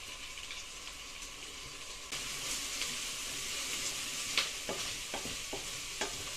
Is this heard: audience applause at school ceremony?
no